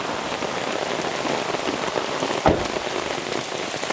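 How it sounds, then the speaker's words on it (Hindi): Heavy rain pours down at a jungle campsite in India, a loud, dense, steady hiss of drops hitting surfaces, with one brief thud midway. "पैकअप करते करते इतनी ज़ोरों से बारिश आ गई"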